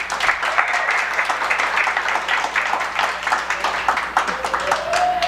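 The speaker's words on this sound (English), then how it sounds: "Let's give Sherry another round of applause." Audience applause at a talk-show style event, a dense, steady wash of many hands clapping for about five seconds, with a few voices calling out over it.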